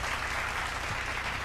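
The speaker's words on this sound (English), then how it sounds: "Can we have a round of applause for the distinguished panelists on the stage?" Audience at an education and skill development summit applauding panelists on stage, a continuous even wash of clapping from a large crowd.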